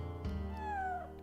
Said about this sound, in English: I heard that meow.